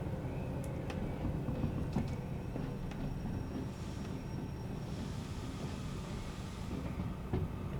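A long train in the video game Derail Valley rumbles steadily past with continuous low rolling noise and occasional squeaks and clanks of wagons, no talking.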